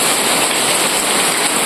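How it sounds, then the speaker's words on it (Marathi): Heavy monsoon rain pours down in the Konkan region in the morning, heard from home as a steady, loud, even hiss with no breaks and no voices. "बघूया आपण, पाऊस दाखवतो मी तुम्हाला."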